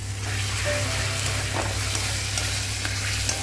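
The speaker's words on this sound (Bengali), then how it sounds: "এবার এটা খুব ভালোভাবে কষিয়ে নেব" Spices, chili powder and a splash of water sizzle in a pan as the masala is stirred for a chicken-mince egg devil, a loud, continuous, close frying hiss with light scraping and no voices.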